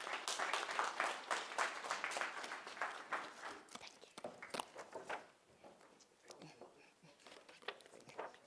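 Audience applause at a youth information session on social housing, scattered clapping that is strongest at first, then thins into a few sparse claps with soft murmuring voices in the room.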